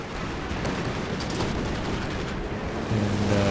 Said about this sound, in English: There's another strafe and they're all missing.